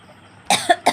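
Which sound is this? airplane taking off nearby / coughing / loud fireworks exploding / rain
coughing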